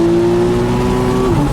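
A Porsche 911 Cabriolet engine revs hard at high RPM, giving a loud, sustained, steady-pitched roar that drops suddenly near the end, as if on a gear change.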